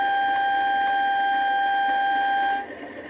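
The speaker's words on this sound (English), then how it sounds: "3 is high tone air horn" A single sustained high-pitched two-tone horn blast from a model Class 37 diesel locomotive's high tone air horn sounds for over two seconds, loud and steady, then cuts off.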